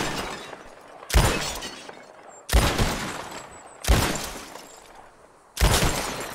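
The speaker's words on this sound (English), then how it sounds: "Who can shoot the most bottles?" Four loud revolver shots in Red Dead Redemption 2 shatter bottles, each crack followed by breaking glass, spaced about a second and a half apart.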